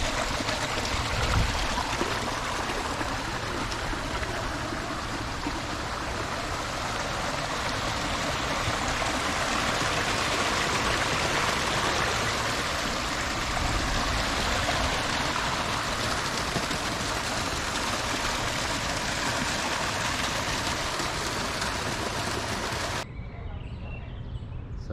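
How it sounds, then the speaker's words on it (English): A small stream pours steadily into a little waterfall on hotel grounds in Pasadena, a continuous broadband rush holding nearly constant for most of the clip before cutting off near the end. "Look how that stream careens into that little waterfall there."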